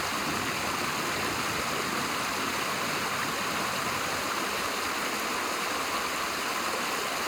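A mountain stream rushes over rocks in a steady, loud, unbroken wash of water, with no voices over it.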